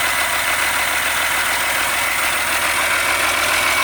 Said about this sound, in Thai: นี่นะครับเครื่องยนต์ 6BG 1 Turbo นะครับ